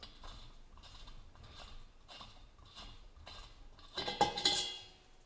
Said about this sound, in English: then we just take a crescent wrench